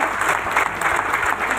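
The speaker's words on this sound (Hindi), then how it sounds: "आप लोगों के जोरदार तालियों के बीच मैं इनवाइट कर रहा" Audience at a business coaching seminar applauding loudly as a guest is invited, a thick, continuous wash of clapping from a crowd, close and steady with no talk.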